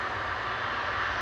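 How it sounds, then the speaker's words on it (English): Airbus A330-200 airliner of the Air Tanker reserve fleet at Manchester Airport, a steady broad engine roar holding at constant loudness throughout, nearby and without voices. "Operated by Air Tanker with one of their A330-200s"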